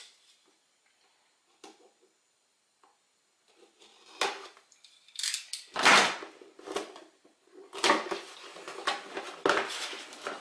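Packaging for a Bully Dog BDX tuner is cut and torn open, with near silence at first, then scattered crinkling, scraping and rustling bursts of plastic and cardboard close by, growing busier toward the end.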